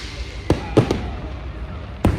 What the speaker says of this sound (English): They watch the fireworks